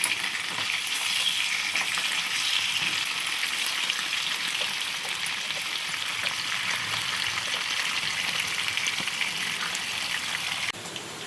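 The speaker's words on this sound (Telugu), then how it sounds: "ఈ థర్డ్ రౌండ్ ఫ్రై అవుతున్నాయి చూడండి." Tiger prawns fry in a pan for a spicy pepper fry, a steady dense sizzle with crackling spatter that holds at an even, fairly loud level throughout, no voices.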